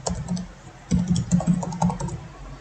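Computer keyboard being typed on while entering a database command, close irregular clusters of key clicks with short pauses between bursts.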